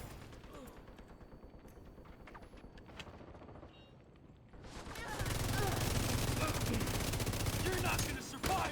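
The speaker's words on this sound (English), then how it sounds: "I don't mind, I'll just keep shooting over him." Sustained automatic gunfire in a video game, a rapid rattling burst that swells loud and continuous in the second half, following quieter scattered shots.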